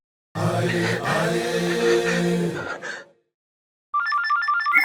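A telephone ringtone starts abruptly near the end as a bright, repeating electronic trill, after a stretch of loud talk and background sound falls silent.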